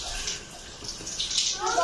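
Tap water runs while a toy car is washed, a short splashing, rushing stream with a faint voice underneath.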